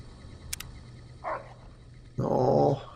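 Rex, a dog companion in the video game Fallout: New Vegas, gives a brief low bark and then a louder, longer growling bark near the end, over a soft hum with no talking.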